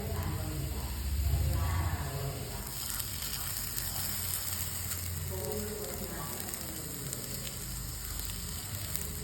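Washed rice dry-roasting in a hot pan gives a continuous soft crackling sizzle with occasional stirring scrapes, fairly quiet and close, with faint background noise.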